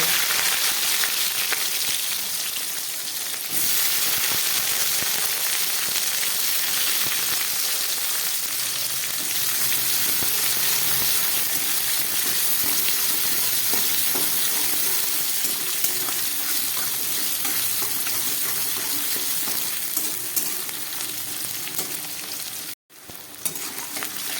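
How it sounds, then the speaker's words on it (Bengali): Tomatoes sizzle and crackle steadily in hot oil for a long stretch, close up, with occasional stirring and no talking. "আবার তেল দিয়ে দিলাম এবার এর মধ্যে আমি এই কাঁচা টমেটোগুলো একটু ভেজে নেব"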